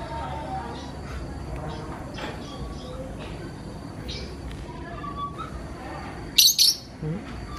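A pet lovebird gives a couple of sharp, bright chirps near the end, rising above a quiet room with faint background sounds and soft, intermittent noises.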